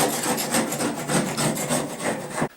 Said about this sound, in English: you can use the edges just like a scraper, and it's plastic, and so it does a good job of removing it without scratching the material